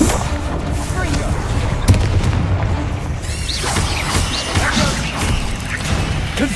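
Fiery blasts from a cast spell in the video game Hogwarts Legacy, with booming explosions over a steady roar of combat noise, loud and close, and a voice speaking at points.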